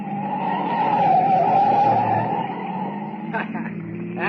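Car tyres in an old Superman radio drama squealing in a long, sustained skid as a light car takes a sharp right turn. The squeal is loud and close, with engine rumble beneath it and then a few knocks.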